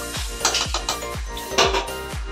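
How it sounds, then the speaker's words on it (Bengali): The metal weight is worked onto a pressure cooker lid in a home kitchen, giving a series of about six close, sharp metallic clinks and clanks at an irregular pace. "প্রেশার কুকারে কাটারটাকে লাগিয়ে দিই"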